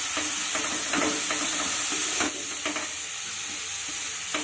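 Soft leafy greens stir-fried in a pan hiss and crackle up close, with a run of scraping, clattering stirs that ease off into a steadier sizzle, with no voices.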